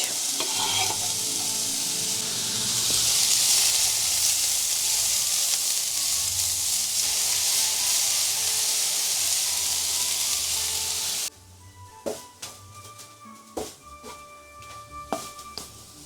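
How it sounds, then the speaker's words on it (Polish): Chopped onion sautéing in a little heated oil in a frying pan, a steady loud sizzle with stirring for most of the time, then dropping to quieter crackles and occasional scrapes near the end. "Na patelni rozgrzewamy niewielką ilość oleju i cebulkę musimy zeszklić."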